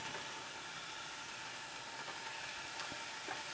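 Onions, garlic and Scotch bonnet pepper sizzle steadily in hot oil in a pan, a constant close hiss with faint crackles and no voices.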